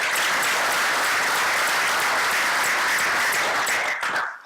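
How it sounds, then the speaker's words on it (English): An audience bursts into loud, dense applause that holds steady for about four seconds before tapering off abruptly at the end. "Put a round of applause, please."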